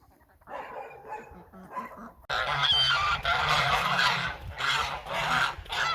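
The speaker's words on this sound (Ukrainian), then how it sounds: "Мої гусаки." A few quieter calls, then a sudden loud, continuous chorus of domestic geese honking close by, many birds overlapping.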